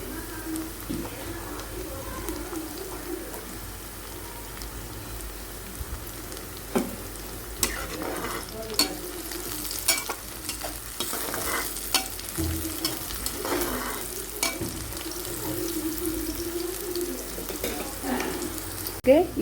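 Green chillies fry in an oily pan with a soft, steady sizzle, broken by scattered clinks and scrapes of stirring.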